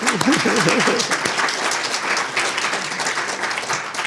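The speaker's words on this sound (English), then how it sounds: "let's give ourselves a round of applause." Steady applause from a crowd, many hands clapping together loudly and continuously, with a brief voice at the start.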